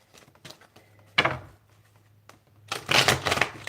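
A deck of tarot cards is shuffled close up in two quick riffling bursts separated by a pause, with soft handling taps and rustles between them in an otherwise quiet room.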